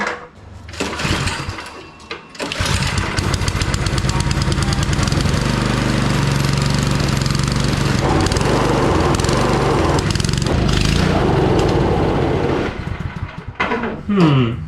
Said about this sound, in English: that's how the snowblower runs